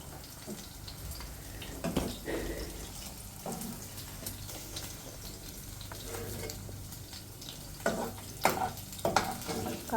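A steel spoon scoops frying food from a non-stick pan, with a steady oily sizzle throughout and scraping, clinking strokes that grow busier toward the end; no talking.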